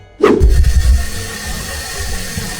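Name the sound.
water running from sink faucet to check for leaks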